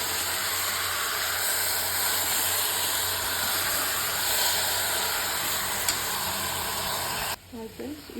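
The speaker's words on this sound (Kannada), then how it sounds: "ಇದು ಎಣ್ಣೆಲಿ ಒಂದು 5 ನಿಮಿಷ ಬಾಡಬೇಕು." Salted mutton pieces sizzle loudly and steadily in hot oil in a pressure cooker, a continuous dense hiss that cuts off abruptly near the end, followed by a brief voice.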